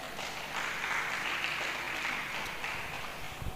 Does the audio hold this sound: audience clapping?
yes